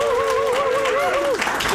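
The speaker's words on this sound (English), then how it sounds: "Applaud for LinuxFest." A conference audience at LinuxFest Northwest applauds at the start of a presentation, with a wash of clapping under a loud, wavering whoop or cheer that rises above the crowd.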